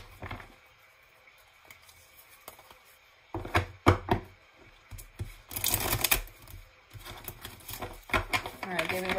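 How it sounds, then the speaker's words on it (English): Tarot cards shuffled by hand in scattered papery bursts of riffling and tapping, close and moderately loud, with quieter rustling between and a person talking at times. "It's hard to shuffle with all these other cards over here."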